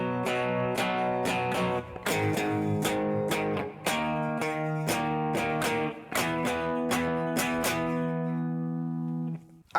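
The guitar intro of a song is played alone: bright strummed chords in a steady rhythm with short pauses, clear and close.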